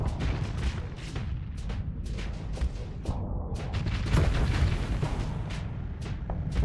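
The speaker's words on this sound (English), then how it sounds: "That explosion, too." Weapon explosions in the space combat game Starsector, with missiles and big lasers, come as a rapid string of booming, rumbling blasts with crackling bursts, loud and continuous with no talk.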